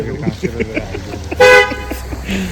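Car horn giving one short, loud toot in the middle of people talking nearby, on a road trip to Jewargi.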